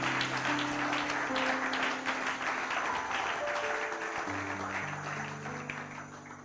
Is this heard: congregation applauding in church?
yes